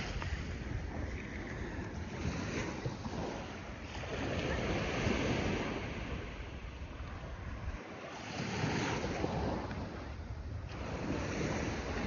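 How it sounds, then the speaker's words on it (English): Ocean waves wash continuously onto the shore at Atami at night, a steady broadband roar that swells and recedes in slow surges, with some wind buffeting the microphone and no talking. "Loving the sounds of the waves."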